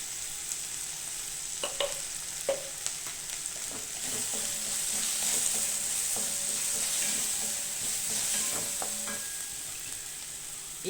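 Mutton gravy with spices and garam masala sizzles steadily as it sautés in a pan, broken by the scrape and clink of a stirring spoon against the metal, with no talk.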